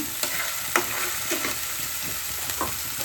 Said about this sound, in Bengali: দুই টেবিল চামচ পরিমাণ পেঁয়াজ বাটা দুটো তেজপাতা দুটো দারচিনি